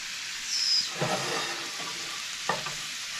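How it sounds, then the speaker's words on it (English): Food searing in a hot pan turned up high, giving a steady close sizzle and hiss throughout with a couple of brief scraping stirs. "we're gonna turn it up so we can get a good sear on it"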